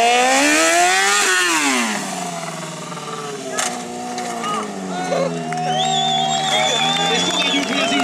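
A motorcycle in a Mókus Street Fighter stunt show idles at about 1000 rpm while rolling in circles, its steady low engine tone running beneath a loud announcer's talk over the public address.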